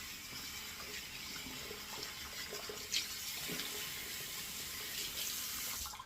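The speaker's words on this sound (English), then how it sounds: "I don't talk when I run the water" Steady tap water runs continuously into a bathroom sink during a wet shave with a Dovo straight razor and a horse hair brush, a constant close rushing hiss with a few faint clinks, no talking.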